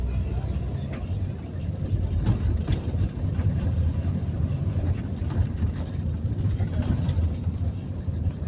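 Car driving through a town, a steady low engine rumble and road noise heard from inside, continuous and moderately loud with faint voices now and then.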